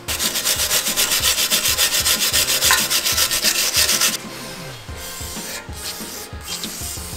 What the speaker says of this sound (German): Oh, super Drahtbürste.